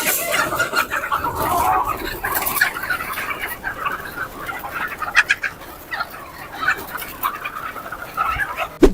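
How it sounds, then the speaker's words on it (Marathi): Free-range country chickens let out to eat their feed cluck and chatter steadily throughout, a busy close flock with scattered sharper calls and no talking. "कोंबड्या सोडल्यानंतर किती वेळामध्ये हे चारा फस्त करतात ते तुम्ही फक्त बघा"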